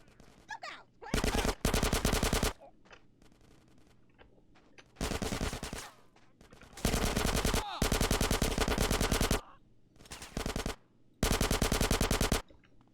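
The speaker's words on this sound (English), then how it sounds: "Get some suppressing fire in there." Loud bursts of machine gun fire in the video game Grand Theft Auto San Andreas, several sustained rapid-fire volleys of a second or two each, separated by short gaps with quieter background game sounds.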